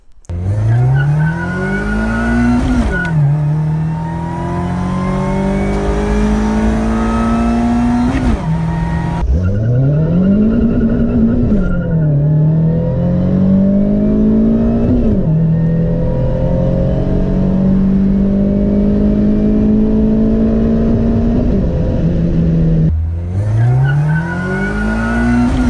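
A car with a short gear transmission drives and accelerates, its engine climbing loudly through several gears with each shift marked by a drop in pitch and a renewed rise, close and continuous.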